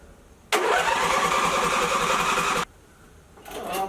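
A car engine fitted with a new carburetor cranks and catches, running loud and steady for about two seconds before cutting out abruptly, then a short whirring crank starts again near the end.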